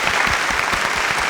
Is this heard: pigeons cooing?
no